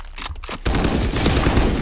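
Rapid gunfire in the video game Valorant, a dense fusillade of shots that bursts in suddenly after a brief quieter moment and continues loud and sustained to the end.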